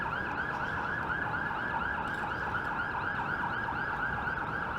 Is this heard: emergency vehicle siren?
yes